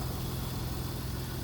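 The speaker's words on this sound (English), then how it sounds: "This is a 2006 Honda Odyssey EX-l. Had it running about 20 minutes or so now." A 2006 Honda Odyssey EX-L V6 with variable cylinder management idles steadily after warming up, a smooth, even low hum heard alone at moderate level.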